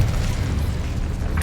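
The Incendio fire spell is cast in Hogwarts Legacy, a short, dull whooshing burst with a low rumble that fills the brief moment without voices.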